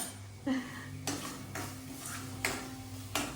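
A spoon stirring paneer curry in a steel pan gives several sharp metallic clinks and scrapes at irregular intervals over a low steady background hiss.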